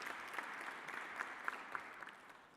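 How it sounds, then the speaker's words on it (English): A conference audience at the 25th ECF-SADC Annual General Conference breaks into steady, fairly distant applause, a dense even patter of many hands that holds for the full stretch without voices. "I think we all deserve a round of applause for ourselves."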